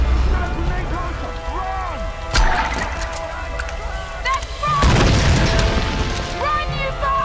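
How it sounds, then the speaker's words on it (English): Grenade launcher blasts in the Tomb Raider video game: two loud booming explosions, roughly two seconds apart, over steady game ambience and music with occasional talk. "Ah yes, grenade launcher"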